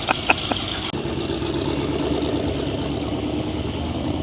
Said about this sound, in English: my first time ever seeing a Cadillac CTS. It sounds like a pickup truck with a dually pipes on it